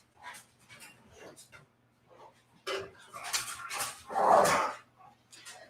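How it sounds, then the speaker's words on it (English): A rambunctious dog pants and lets out excited barks and whimpery yelps in uneven bursts, fairly close in a kitchen during Thanksgiving cooking. "Rambunctious dog."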